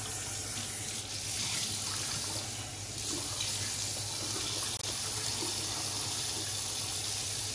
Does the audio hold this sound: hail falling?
no